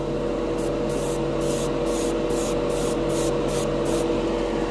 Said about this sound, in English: It looks like it did spray really good without thinning it through the Badger airbrush.